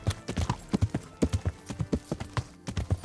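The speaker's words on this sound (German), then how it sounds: "Zum Aussichtspunkt, zu Herrn Ratzig werden wir reiten." Horse hooves clip-clop in a steady trotting rhythm as a rider travels in the medieval video game Kingdom Come: Deliverance, close and clear with regular paired beats throughout.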